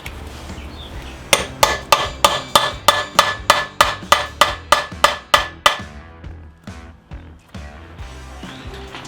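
A bolt extractor is hammered onto a stuck lug nut on a Polaris RZR, with about fifteen sharp, evenly spaced metallic strikes ringing out close by, followed by a few softer, irregular knocks and clatter as the work stops.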